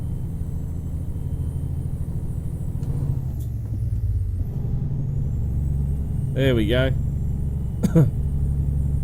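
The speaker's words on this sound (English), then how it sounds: "Trying to go as fast as this truck can go." A Kenworth T800 dump truck in American Truck Simulator drones with a steady low engine rumble that climbs slightly as it accelerates, and a person speaks briefly over it.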